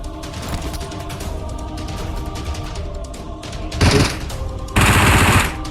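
PUBG Mobile gunfire played on an iPad: a continuous rattle of automatic shots over a low game background, with two louder, denser bursts of rapid fire near the end.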